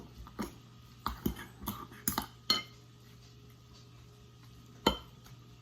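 A knife minces pulled pork tenderloin on a cutting board, giving sharp, sparse taps and clicks. A quick cluster comes early, then a long quiet gap and one last firm knock, all close and faint.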